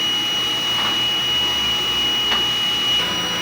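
A sublimation printer runs a print head clean cycle, giving a steady loud mechanical whir with a constant high whine and faint clicks, with no talk.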